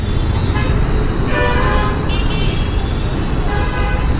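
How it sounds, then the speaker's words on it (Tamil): Car horns toot several times through loud, rumbling traffic noise, heard from a motorcycle, short blasts sounding close amid engines. "பின்னாடி ஹார்ன் அடிச்சுக்கிட்டே இருக்காங்களே"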